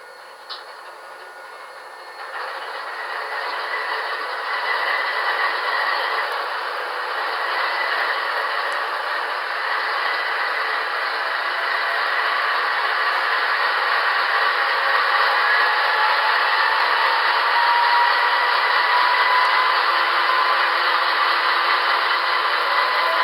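An MTH HO-scale GE ES44 demonstrator model locomotive starts up, its sound system producing a steady, rising diesel rumble and hiss that keeps going at an even level for over twenty seconds with no talk.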